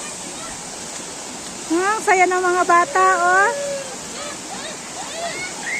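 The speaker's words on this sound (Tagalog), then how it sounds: "Kaya tuwang-tuwa kami pag nakakita kami ng tubig na umaagos." A flowing river at a family picnic spot, a constant rushing hiss of water running throughout while people talk over it.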